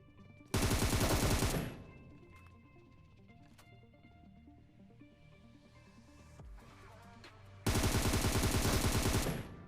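Bursts of AUG and AWM gunfire in a battle royale game firefight, with two loud, dense blasts of shooting near the start and end and quieter game sounds between them.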